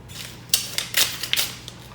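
A paper envelope being opened up close, with a quick run of crisp tearing and crinkling rips across a couple of seconds, fairly loud against a quiet background.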